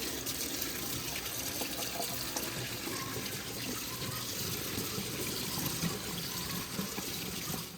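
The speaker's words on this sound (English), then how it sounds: "Now we're gonna go ahead and rinse them off one more time." Tap water rinsing cut carrots, a steady broadband gush of running water splashing over the vegetables, close and continuous with no talk.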